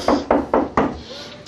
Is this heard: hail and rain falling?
no